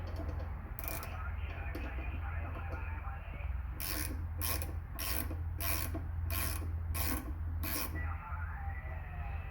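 Wrench turning a nut on the shaft of a homemade dual-band stub J-pole antenna, a faint series of quick ratcheting clicks in a quiet workshop, with no talking.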